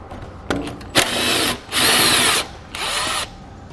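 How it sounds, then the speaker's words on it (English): A power tool with a 13mm socket spins out an exhaust hanger bolt under a 2014 vehicle, giving a few loud whirring bursts of about half a second each, separated by brief pauses after some initial clicks. "This one also removes with a 13mm socket."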